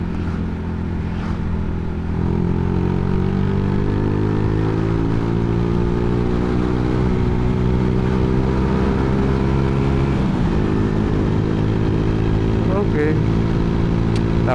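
A motorcycle ridden through traffic in Indonesia gives a steady, close engine drone with a low, layered hum that holds throughout and swells slightly in places.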